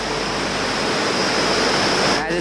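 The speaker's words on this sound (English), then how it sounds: "enjoying the sounds of the jungle and the sounds of this beautiful little river" A small clean river in the jungle during monsoon season, giving a steady, dense rush of flowing water that stays even and fairly loud throughout, with no voices over it.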